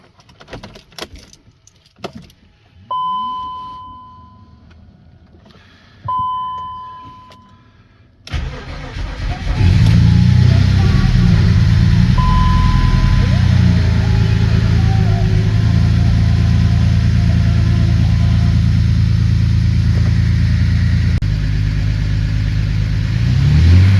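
A BMW X5 with a previously seized engine, just repaired, is started: keys jangle, warning chimes ring twice, the starter cranks, and the engine catches into a loud, steady idle that rumbles on close by for many seconds, with faint voices at times.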